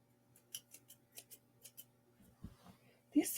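Resharpened but still dull sewing scissors cut fabric for an agility tank top, making a string of quick, crisp close-up snips, with a louder rustle of handling at the end.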